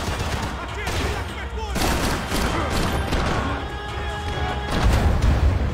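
Gunfire from an enemy positioned above in the shooter Max Payne 3, a dense clatter of shots and impacts mixed with crashing debris and game effects throughout.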